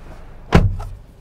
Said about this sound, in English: We're reaching over here to shut the door of the Honda Civic.